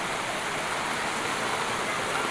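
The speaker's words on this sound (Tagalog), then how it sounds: "Unang ulan dito." Steady rain pouring down at a beach during the first rainfall of the season, an even hissing wash of drops with no pauses.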